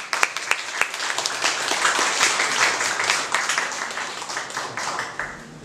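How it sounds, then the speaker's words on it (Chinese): An audience at a formal gathering breaks into applause for a speaker, with dense, steady clapping from many hands that starts with a few sharp claps and fades out near the end. "我们应该给他鼓掌"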